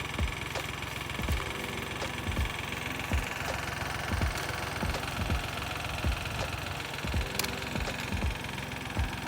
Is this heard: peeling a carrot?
no